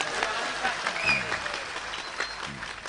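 Applause from a crowd at a religious gathering marking Indonesian Independence Day, fairly loud and dense clapping with a few voices and whistle-like squeaks mixed in.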